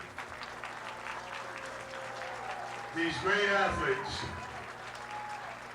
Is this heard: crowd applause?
yes